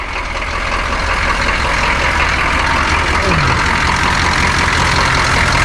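Diesel truck with a 6.2 engine and Banks turbo idles loudly and steadily close by, a constant low rumble with no breaks throughout.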